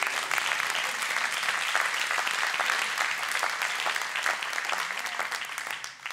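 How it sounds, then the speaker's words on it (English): A congregation at a Shabbat evening church service gives a hand clap of praise, with continuous, dense applause filling the room at a steady level before it tapers slightly at the end. "Let's give the Lord a hand clap of praise in the house tonight."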